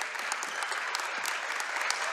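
A high school basketball crowd at Loyalsock vs. Mount Carmel applauds and cheers steadily, a dense, loud wash of clapping that fills the gym without a break.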